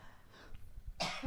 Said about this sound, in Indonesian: sorry batuk dulu